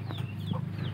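Chickens on a simple village farm cluck softly and steadily for about a second, a low continuous murmur of fowl with small bursts, moderately near and alone without talk.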